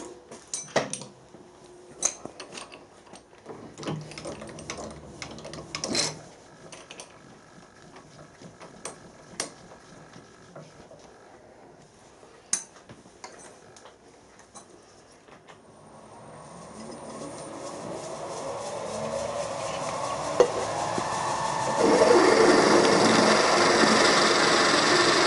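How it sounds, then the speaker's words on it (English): Scattered clanks and scraping of metal parts give way to a rising, steady grinding whir as a 7/16-inch drill bites into a metal high-pressure flange, growing louder toward the end. "Right, 7/16 drill."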